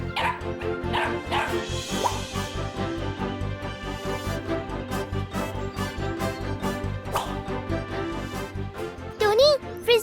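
A cartoon puppy named Jumpy barks and yips in quick repeated bursts over a steady rhythmic music bed, the barks close and bright throughout.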